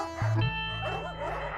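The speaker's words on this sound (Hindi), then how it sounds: "आज कुत्ते कितने भौंक रहे हैं," A dog gives a few short barks up close, followed by fainter, muffled barking in the background.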